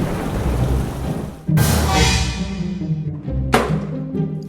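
Thunder sound effect in a horror cartoon: two sharp, loud cracks, each rolling away into a long rumble, over a continuous wash of heavy rain.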